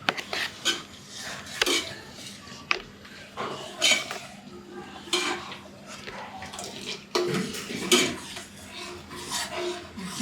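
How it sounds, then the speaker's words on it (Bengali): A spoon scrapes repeatedly around a pot of milk on a low gas flame as it thickens, each stroke a rough, close, rhythmic rasp against the metal. "নাড়তে থাকবো নাড়তে থাকবো দুধটা এখন একটু পরে ঘন হয়ে আসবে সেই জন্য খুব নাড়তে হবে"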